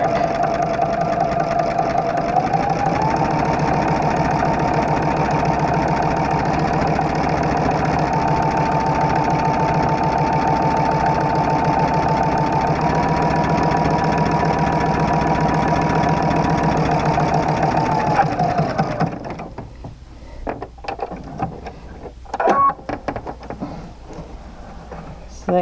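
A sewing machine with a walking foot stitches a quilting row, running steadily and close for about nineteen seconds, then stopping, followed by quieter handling noises and small clicks.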